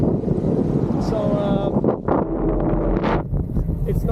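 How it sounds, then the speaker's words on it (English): A strong headwind buffets the microphone of someone cycling a Trek Domane+ AL5 e-bike, producing a loud, continuous roaring rush with gusty swells. A voice is briefly heard. "with a strong wind in your face"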